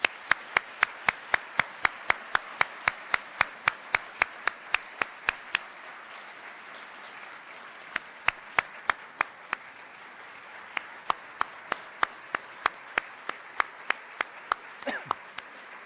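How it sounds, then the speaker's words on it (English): Steady, rhythmic hand claps at a Hall of Heroes induction ceremony, sharp and close, with a brief pause midway before the clapping resumes and continues to the end, with no talk. "Let's give them a big round of applause, please."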